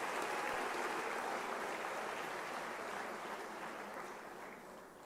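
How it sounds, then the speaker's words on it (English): Steady applause from a crowd at a university closing ceremony, a broad continuous wash of clapping that holds for several seconds and slowly fades toward the end. "May I request another round of applause for the Vice Chancellor"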